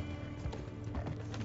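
Horse hooves clip-clop in Red Dead Redemption 2, a steady rhythmic gait of hoofbeats at moderate loudness over game ambience, with no talking.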